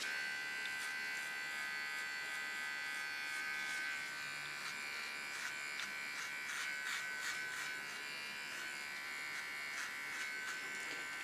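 A small hair clipper buzzes steadily while cleaning up a hairline during a bob haircut, a close continuous hum with slight changes as it moves along the skin.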